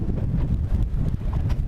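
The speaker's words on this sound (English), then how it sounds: "The wind actually picked up and it got really windy and got choppy." Strong wind buffets a fishing boat out at sea off Dauphin Island, Alabama, a loud continuous low roar and rumble of gusts across the microphone with slight surges, no voices.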